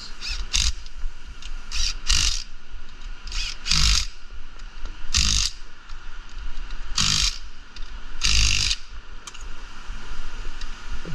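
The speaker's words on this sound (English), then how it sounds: "Now we're gonna tighten the bolts." A ratchet wrench tightens A/C compressor bolts on a heavy duty diesel engine, coming in short bursts of clicking strokes in a workshop over a steady background hum.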